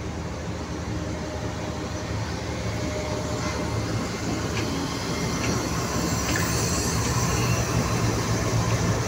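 A train pulls out of a railway station with a sustained rolling rumble and rail clatter, a few faint squeaks and clicks rising over the steady noise, no talking.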